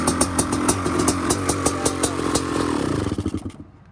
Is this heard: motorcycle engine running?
yes